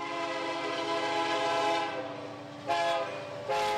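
A train horn blares in a long, loud, sustained chord as the train approaches a car stuck on the tracks, then breaks off and sounds again in further blasts.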